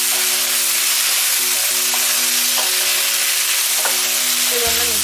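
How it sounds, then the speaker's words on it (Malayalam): Sauces stirred into Gobi Manchurian over a full flame sizzle loudly and continuously in the pan, with faint scraping stir strokes and small clinks rising now and then above the steady hiss. "ഈ നല്ല ഫുൾ ഫ്ലെയിമിൽ തന്നെ കിടന്നിട്ട് നമ്മളിതൊന്ന് മിക്സ് ചെയ്തെടുക്കണം."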